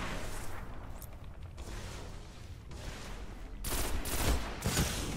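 Gunfire in a competitive team shooter match, sustained bursts of shots that grow denser and louder toward the end, with no voices over it.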